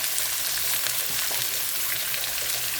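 Sliced large onion dropped into hot oil in a pan with crushed chili, giving a dense, steady sizzle and crackle close up for a few seconds, with no speech.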